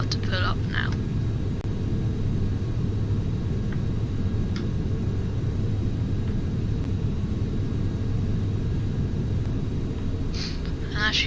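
Steady loud low rumble of an airliner's engines during takeoff and climb-out from Bristol in a flight simulator, continuous and droning throughout with a few faint clicks and brief chirps over it.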